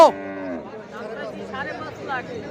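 A cow at a crowded cattle market gives a short, loud moo right at the start, followed by faint background voices and chatter.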